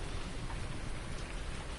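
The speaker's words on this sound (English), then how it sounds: "I usually don't like streaming while it's raining" Rain falls steadily in the PS4 video game No Man's Land, a dense, even hiss of drops on surfaces with no breaks and no voices.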